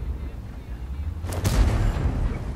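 A tank gun fires in World of Tanks, a single heavy boom over a low rumbling engine drone in the video game.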